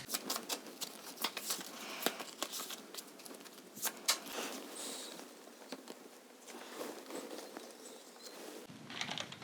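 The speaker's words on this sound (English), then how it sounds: "let's shuffle our deck of cards" A deck of playing cards being shuffled at a table during a board game, giving a close, quick run of dense riffling patter with short sharp bursts. No one speaks.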